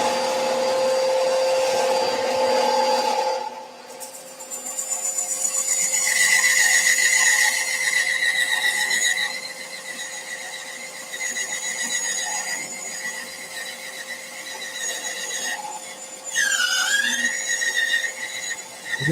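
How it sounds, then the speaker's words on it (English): A bandsaw cuts a piece of timber while a dust extractor runs steadily, a loud continuous whine and hum that dips briefly near the start and shifts in pitch as the blade works through the wood. "Extraction goes back on. And on with the bandsaw."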